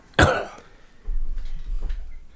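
A person lets out one sharp, loud cough, followed by lower, rougher hacking and throat rumbling that lingers for a couple of seconds.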